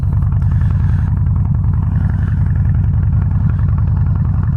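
A Harley-Davidson Softail Slim motorcycle with its 103ci V-twin runs at a steady idle, a loud, close, continuous low rumble with a fast pulsing throb and no voices over it.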